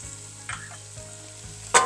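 Diced red bell peppers and minced garlic frying in a pot, a soft steady sizzle with a couple of scraping stir strokes and a sharp clink near the end, no talking.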